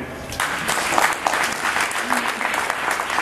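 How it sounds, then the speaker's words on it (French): A gathering applauding a student leader, close and fairly loud crowd clapping with sharp individual claps standing out across the stretch. "je voulais vraiment qu'on applaudisse pour lui"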